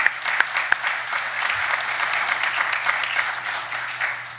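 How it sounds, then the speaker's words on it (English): Graduates and guests at a Stetson University College of Law graduation applaud, a steady wash of clapping from a sizeable audience with a few sharp, close individual claps standing out. "So a round of applause for all of you."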